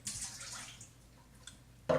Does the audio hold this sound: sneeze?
no